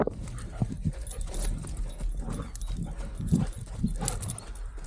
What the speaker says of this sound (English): when the dogs decide to attack each other